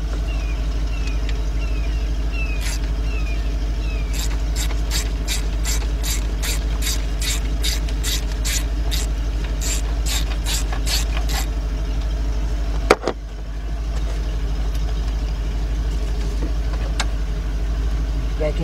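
Ratchet wrench on a long extension backing out engine bolts on a 2004 Lincoln Navigator 5.4 V8, a rapid run of close, sharp clicks over a steady low engine-bay drone, followed by a single clunk.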